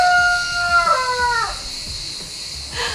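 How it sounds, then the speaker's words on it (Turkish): A rooster crows once, a long wavering call that drops in pitch and trails off, loud and close, followed by quiet background noise. "Benim meşhur horozum"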